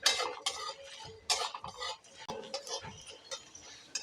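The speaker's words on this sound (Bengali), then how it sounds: "সবগুলো দিয়ে একটু ভাজা ভাজা করে নেব" Whole spices and dried red chillies dry roasting in a pan while being stirred, giving close, irregular metallic scrapes and clinks with light rattling bursts.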